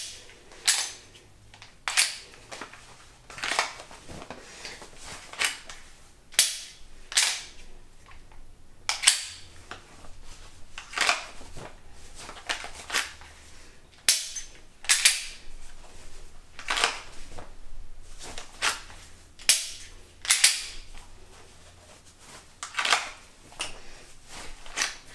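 Pistol drawn again and again from a Vedder appendix holster on a V3 belt, a close series of sharp clicks, snaps and rustles of fabric and plastic in an irregular rhythm, with no voices.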